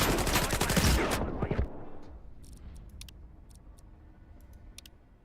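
Gunfire in the video game S.T.A.L.K.E.R. 2: Heart of Chornobyl, with a loud rapid burst of shots for just over a second, then a decaying echo and several sharp clicks or ticks spaced out afterward.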